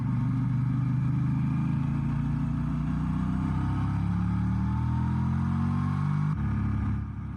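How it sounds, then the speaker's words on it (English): Tour truck engine droning steadily nearby, its pitch slowly rising and shifting as it moves, then cutting off abruptly near the end, with no talk. "I think we have a tour truck here, so they're going to be putting around for a little bit"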